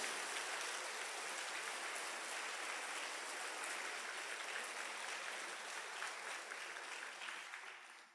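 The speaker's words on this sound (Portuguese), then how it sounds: "Dá um aplauso lindo ao Senhor." A church congregation applauds warmly in a sustained, dense wash of clapping that holds steady for several seconds before tapering off at the end, with no talking over it.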